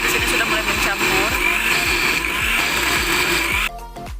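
A kitchen blender whirs steadily while mixing leftover rice cracker batter with a little water, a loud continuous motor drone with rhythmic low pulses that cuts off abruptly near the end.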